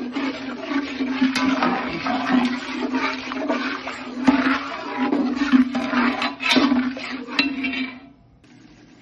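Strained beetroot cooking water poured into a pan of frying spices while making pav bhaji. A loud, rushing gush of water with clinks of metal cookware runs for about eight seconds, then stops abruptly.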